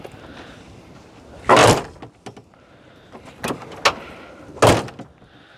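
An old door on an abandoned property is pushed shut with a loud creaking scrape and a thud, followed by a few smaller knocks and rattles and another heavy bang, close by with little else around.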